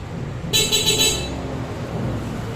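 A single bright electronic horn beep from a 3000-watt e-bike, lasting under a second, close and loud, over a low steady background hum.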